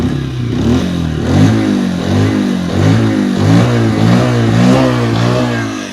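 A Bajaj Pulsar 125 motorcycle engine revs repeatedly under throttle, with a loud, close exhaust note that rises and falls in steady waves and no voices.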